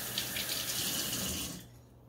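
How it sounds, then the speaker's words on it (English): Warm water runs from a tap into a sink of soapy water while hands are washed, a steady close stream that cuts off and quiets near the end. "So let me wash my hand. I always have a sink full of warm soapy water."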